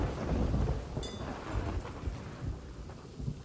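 A thunder and lightning storm in a video game rumbles loudly alongside a steady wash of rain, with a brief crackle and no talk.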